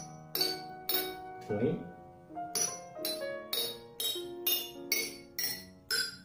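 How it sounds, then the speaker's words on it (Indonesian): Glass bottles holding different amounts of water are struck one after another, giving about ten bright, ringing clinks at a steady pace, close and fairly loud, with a brief spoken word between strikes. "ketika kita memukul di botol yang paling banyak airnya, bunyi yang dihasilkan adalah paling rendah"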